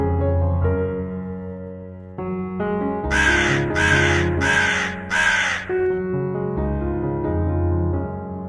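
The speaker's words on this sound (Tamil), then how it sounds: "காகம்" A crow caws in four loud, evenly spaced calls, close and clear, over a steady musical backing.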